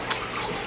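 Steady, faint trickle of running water from an indoor koi pond in a kitchen, a continuous soft wash with one brief splash near the start.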